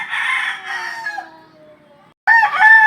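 Rooster crowing close and loud, one long cock-a-doodle-doo fading out, a short pause, then a second burst of crowing and clucking.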